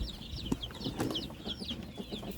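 Young chicks cheep in rapid, high repeated peeps close by, a steady chorus from a brood of small new chicks over low background noise.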